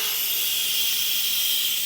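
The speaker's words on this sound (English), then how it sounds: "I'm gonna let my steam out here" Steam venting from an Instant Pot release valve, a loud, steady high-pitched hiss that holds constant from start to finish with no voices.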